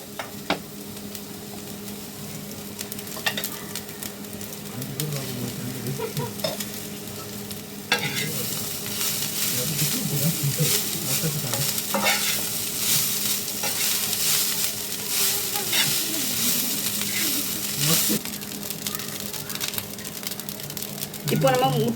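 Cooked rice is stirred into half-cooked vegetables frying in a pan for egg fried rice, with steady sizzling and scraping that grow louder partway through and repeated spoon strokes against the pan.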